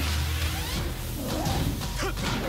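Whooshes, smacks and crashing impacts of fighting in Tekken Tag Tournament 2 come in quick succession, dense and close, with no voices.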